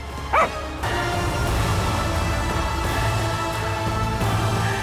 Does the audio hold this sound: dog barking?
yes